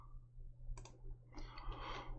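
Keys are pressed on a calculator while a 3x3 matrix is entered, a few soft plastic clicks in quick short bursts, faint and close over a low hum.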